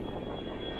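Airplane accelerating down the runway for takeoff at Guangzhou Baiyun International Airport, heard as a steady, loud broadband engine roar that holds constant throughout without pauses.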